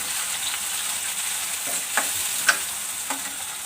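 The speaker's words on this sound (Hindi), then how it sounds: "फ्राई कर लेते हैं इनको हल्का सा, ज़्यादा नहीं करना, हल्का ही फ्राई करेंगे इनको।" Tomatoes frying lightly in a pan with onion and green chili, giving a steady soft sizzle with a few sharp spatula clicks and stirs.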